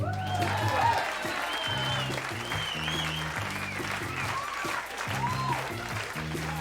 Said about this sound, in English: let's bring them out with a big round of applause